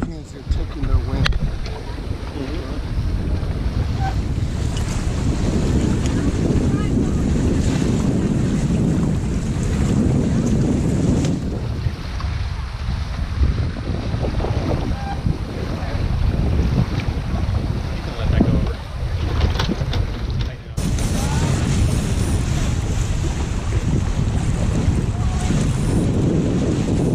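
Wind gusting over sailboats during a marina race in Pearl Harbor, a continuous loud roar of wind noise with water sounds, while people talk throughout.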